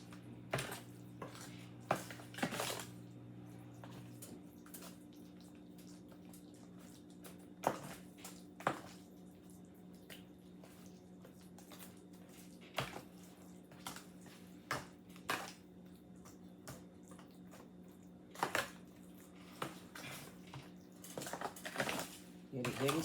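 Sweet potatoes being stirred with butter in a pot for an Easter dinner, giving intermittent clinks and scrapes of a utensil against cookware over a low steady hum, with a voice talking during the first few seconds.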